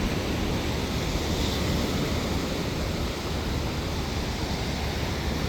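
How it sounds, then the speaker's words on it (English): Waves breaking on a beach, heard as a continuous broadband wash with wind noise on the microphone, steady and moderately loud, with no voices. "there's some waves out there"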